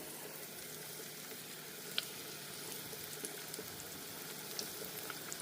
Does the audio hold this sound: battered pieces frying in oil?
yes